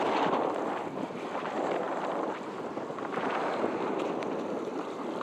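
Strong wind gusts roar continuously while wingfoiling on the sea at La Ramée, a loud, steady rushing buffet with no speech.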